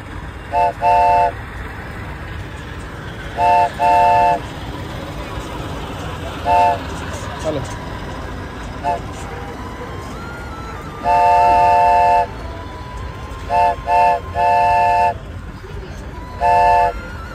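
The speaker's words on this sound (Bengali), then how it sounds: "একটু দূরে যেতে না যেতেই দেখলাম টয় ট্রেন চলে আসছে।" A toy train's horn toots in short bursts at an eco park, single and paired blasts repeating over a low rumble of traffic and crowd noise.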